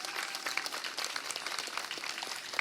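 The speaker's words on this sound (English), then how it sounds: "please give them the warmest round of applause that you can" Audience applause at a community event, a dense crowd patter of claps held steady and moderately loud for the whole stretch, with a few sharper individual claps standing out near the end.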